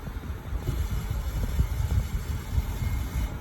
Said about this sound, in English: I guess it's some metal against metal vibration going on.